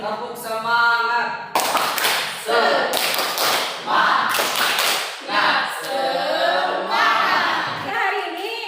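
Schoolchildren's tepuk semangat clapping chant led by a teacher in class, with rhythmic groups of sharp claps and taps alternating with sung chant lines, close and lively.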